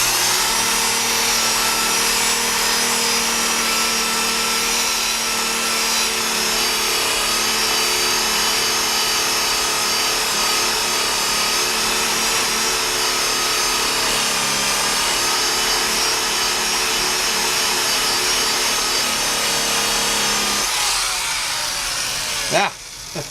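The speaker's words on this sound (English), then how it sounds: "I want to buff in this direction." An orange buffing ball spins on a power tool to polish metal with Flitz, giving a loud, steady whine with a faint rising tone, running almost unbroken for about twenty seconds before it winds down.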